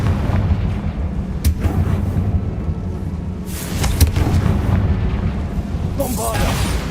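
Confringo fire spell blasts going off in the video game Hogwarts Legacy: several loud booming bursts over a steady rumbling game soundscape, one sharp crack early and heavier blasts toward the middle and end.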